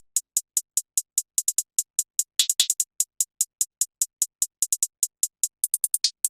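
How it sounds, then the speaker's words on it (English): Hi-hat samples from an FL Studio trap beat play alone: quick crisp ticks in a steady fast pattern with occasional rapid rolls and a brief open hat, fairly quiet and clean. "And then we have the hi-hats."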